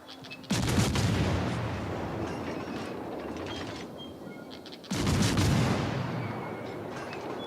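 Two heavy booming impacts from World of Warships: Legends naval combat, each striking suddenly and trailing into a long rumbling, crackling decay, with the second blast arriving several seconds after the first.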